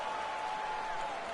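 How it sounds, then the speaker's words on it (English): Loud, steady crowd roar and cheering fills a basketball arena during a Rockets vs. Warriors playoff game, a constant wall of noise with no breaks. "how about the intensity and focus of the crowd here? So loud in this place."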